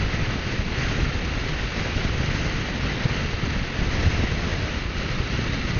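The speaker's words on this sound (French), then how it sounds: "c'est ce vent de face hein, qui est terrible." Strong headwind roaring while riding a Yamaha V-Max 125cc scooter at speed, a loud, constant buffeting rumble with no breaks and no voices.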